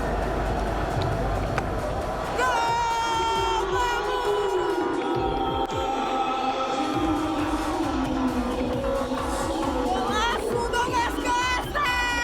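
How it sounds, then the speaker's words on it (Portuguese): Stadium crowd at a Grêmio football match booing after the home team's loss, a steady broad roar of voices and whistles heard behind a nearby reporter talking. "Vocês podem ouvir atrás de mim, temos vaia"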